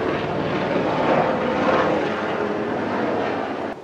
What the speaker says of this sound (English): I'm trying to record a video here and they're flying the helicopter.